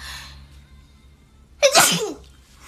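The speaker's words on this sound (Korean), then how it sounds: "차라리 재채기는 괜찮단 말이야." A single sharp human sneeze bursts out after a quiet stretch with low background hum, loud and close, with no talking.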